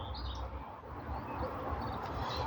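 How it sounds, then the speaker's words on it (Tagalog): Birds chirp outdoors near a home garden with roses, small high tweets coming in two brief bursts over a soft, constant background hum. "Rinig ninyo ng kuan mga langgam, mga ibon."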